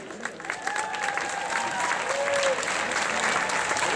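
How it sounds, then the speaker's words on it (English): Applause rolls through the audience at the 2012 Top Model of the World pageant, dense and sustained, with whistles and cheers rising over the clapping as it swells louder toward the end. "This is your applause."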